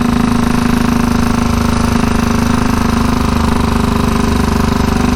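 A 1934 Velocette KTT motorcycle ridden in second gear on the road gives a loud, steady engine drone with a firm low pulse that holds evenly throughout, with no talking.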